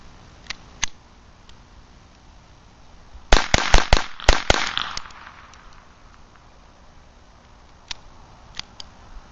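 A Beretta 21A pistol firing Remington .22 target loads, a rapid string of about six sharp, loud cracks in quick succession, with a few fainter clicks and pops before and after.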